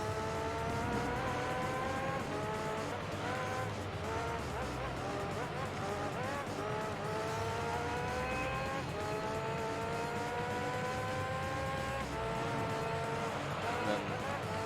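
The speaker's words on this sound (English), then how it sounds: "how much that car sounds like the German DTM cars in this game" Race car engines in Gran Turismo 3 whine and rise in pitch through repeated gear shifts, with steady loud revving and some tire noise throughout, and no talking.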